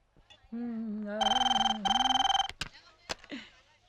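An old landline telephone bell rings in a film scene, two loud bursts of trilling rings separated by a brief gap, following a man's sung or spoken line and followed by short noises.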